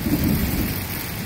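Hailstones fall hard in a November storm in Bristol, Connecticut, making a dense, loud, steady hiss and patter with a low rumble underneath, close and continuous, with no voices.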